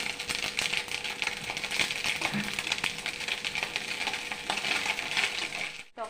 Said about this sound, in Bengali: একটু সর্ষে ফোড়ন দিয়ে দেবো।